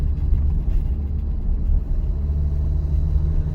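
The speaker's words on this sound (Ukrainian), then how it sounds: "Зараз я рухаюсь на другій передачі" A car rolls along in second gear during a driving-test manoeuvre, its engine giving a steady, close, low rumble with a mild drone throughout and no voices.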